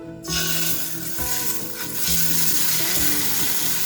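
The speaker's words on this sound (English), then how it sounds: "Stir the tomato paste." Tomato paste sizzles loudly in hot olive oil in a pot while being stirred, a bright continuous frying hiss punctuated by a few spoon-against-pot scrapes and knocks.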